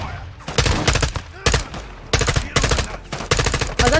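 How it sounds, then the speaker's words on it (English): Gunfire in Call of Duty Modern Warfare II, loud rapid bursts of automatic fire repeating in clusters with brief gaps between them. "Get your cover and return fire."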